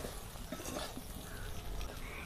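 Okra and potato curry frying in a pan, a soft steady sizzle with faint stirring and utensil clinks, fairly quiet and close.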